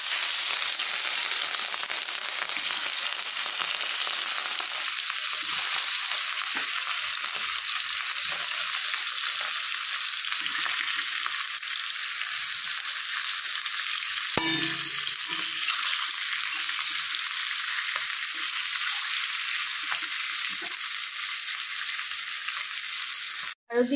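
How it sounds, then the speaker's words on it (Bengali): Pieces of katla fish sizzle steadily in hot oil in a wok, a dense continuous frying hiss with a brief clatter near the middle, close and loud with no talking. "মাছগুলোকে আমি এখন ভেজে নেব।"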